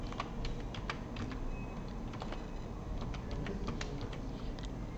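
A password is typed on a computer keyboard during a Windows Server 2019 virtual machine setup, a run of quick, light key clicks over a steady background hum, close and continuous.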